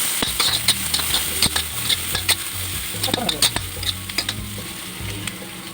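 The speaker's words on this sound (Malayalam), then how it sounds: "കുറച്ച് സവാളയും പിന്നെ പയണയില, ബേ ലീഫ് അതും ഇട്ട് നല്ലതായിട്ടൊന്ന് ഫ്രൈ ചെയ്യും." Sliced onion and bay leaf frying in a pan, a bright continuous sizzle broken by repeated clicks and scrapes of stirring, close and fairly loud.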